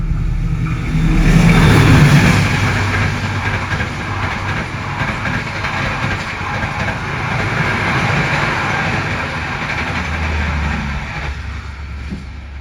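A Tegal Bahari business-class train travels with a steady loud rumble and rattling roar heard from inside the carriage, swelling slightly at the start and holding constant throughout.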